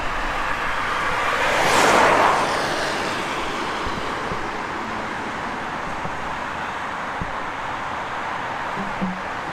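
A car passing along a road on the Isle of Wight, its swelling rush rising and then fading against a steady bed of traffic and wind noise.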